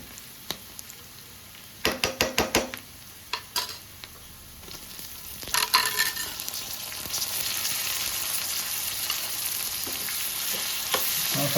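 Onion and chili frying in a pan for chutney, with a few sharp scraping stirs early on, then a steady bright sizzle that builds and fills the later seconds.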